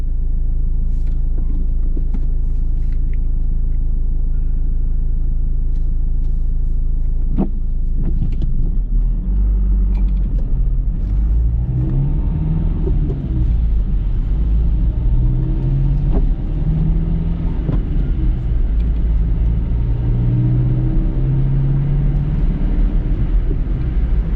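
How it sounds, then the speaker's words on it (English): Steady low rumble inside a 2011 Renault Clio GrandTour in top gear at 70 km/h, with road and tire noise and a faint wash of rain, continuous and without talk. "It's raining now, so it will be extra noisy"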